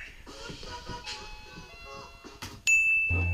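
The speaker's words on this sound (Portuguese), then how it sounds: "Quem é que tá apertando a campainha?" A doorbell chimes late at night, a sharp electronic ding rising over low background music and shuffling, then holding as a sustained tone to the end.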